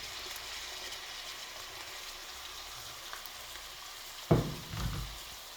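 Onions hitting hot oil in a pan for a chicken and potato curry, a faint steady sizzle that flares into a louder burst of crackling near the end.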